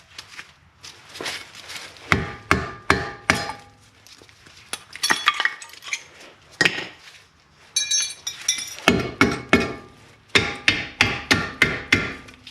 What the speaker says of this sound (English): we're going to have to hammer out those brake pads too.